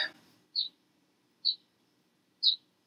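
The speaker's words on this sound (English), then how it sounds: "Can you hear these birds?" Three short, high chirps from a small bird, spaced about a second apart, fairly faint against a quiet background.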